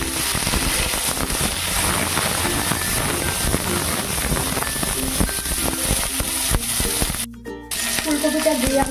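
Cauliflower pieces fry in hot oil after a chilli and five-spice tempering, a loud, dense, rain-like sizzle that carries on steadily, broken by one brief near-silent gap before resuming.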